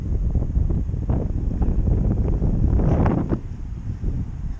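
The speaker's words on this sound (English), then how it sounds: "a bit windy today" Steady wind buffeting the microphone at a beach, a loud continuous rumble with gusty swells and no speech.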